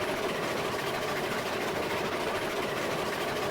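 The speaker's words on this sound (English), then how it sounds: "the train engines are gonna struggle a little bit getting up through here" Train engines labor up a grade in the railway game Railroads Online, making a steady, dense mechanical rumble with a faint rhythmic clatter that holds level throughout without a break.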